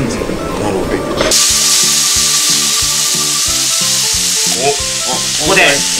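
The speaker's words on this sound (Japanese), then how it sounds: "豚バラを炒めていきます。" Sliced pork belly sizzles and spatters loudly in a hot pan while being cooked for a pork belly oolong curry, a steady close frying hiss with rhythmic stirring scrapes and clatter throughout.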